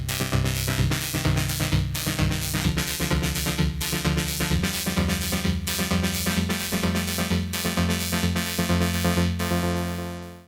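A drum loop run through the Virta vocoder plugin, turning the beat into rhythmically pulsing pad chords; steady, dense and loud throughout with regular rhythmic gating, no talking.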